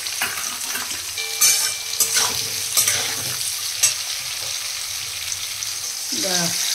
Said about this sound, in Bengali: পেঁয়াজ আর টমেটোটাকে একটু